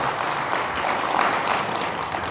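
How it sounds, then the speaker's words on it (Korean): Audience applause at a Buddhist Saturday dharma service in a temple hall, a dense, even wash of many hands clapping at moderate loudness, sustained throughout without pause. "이대명에서 박수 한번 보내주셔야죠."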